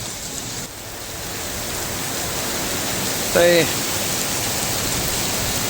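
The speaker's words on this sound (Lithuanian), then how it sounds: "pas mus taip smagiai lyja." Steady rain falling in Singapore, a dense even hiss throughout, with a brief voice breaking in near the middle.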